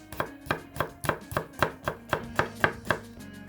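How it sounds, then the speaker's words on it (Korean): A knife minces garlic finely on a cutting board, about ten crisp, evenly spaced chops, close and clear with no talking, during preparation of Korean army stew (budae-jjigae). "마늘을 다져주세요."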